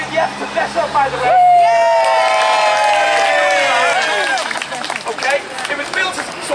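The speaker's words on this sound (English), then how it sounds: "And a really, really big round of applause for those who've made the effort to dress up" Protesters outside a public bath and wash house cheer and applaud, a loud surge of whoops and clapping that swells and holds, with voices rising over it and talk returning as it fades.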